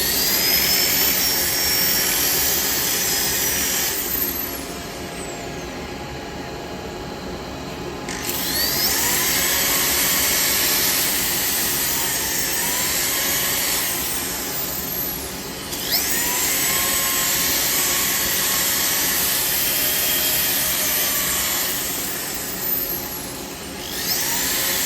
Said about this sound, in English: start it up again, now we can do some sanding